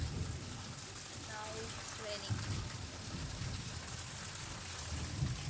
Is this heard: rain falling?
yes